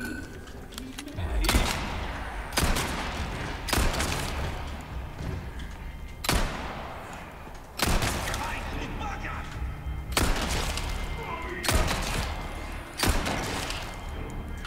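Gunfire in Resident Evil 4 Remake, a series of heavy, booming shots at irregular intervals of a second or two, each with a thudding low-end punch and ringing tail.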